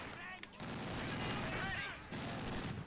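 Rapid bursts of quad-mount anti-aircraft gunfire in a strategy video game, a continuous rattling barrage running steadily beneath faint voices.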